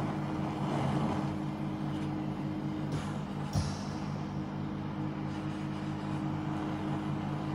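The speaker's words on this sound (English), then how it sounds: "That noise is the oxygen generator." An oxygen generator runs in a steady, droning hum while white gold is melted to pour a small ingot, the noise constant throughout with one brief clunk partway through.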